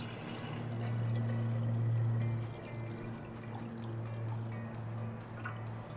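Water pours in a steady, gentle stream at moderate distance, a soft continuous splash with a low tonal ring from the filling vessel, swelling and then easing over several seconds.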